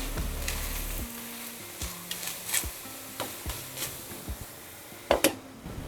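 Cucumber thalipeeth roasts on a pan with a soft, steady sizzle, broken by intermittent scraping and tapping of a utensil, and no voice is heard.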